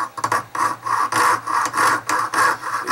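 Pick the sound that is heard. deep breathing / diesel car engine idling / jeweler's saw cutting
jeweler's saw cutting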